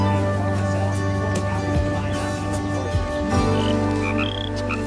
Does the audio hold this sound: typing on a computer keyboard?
no